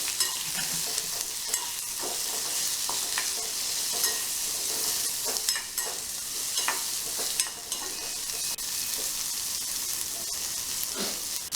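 Carrots, mustard seeds and curry leaves fry in hot oil and are stirred steadily, giving a continuous close sizzle with scraping and clinking stir noises throughout, no voices.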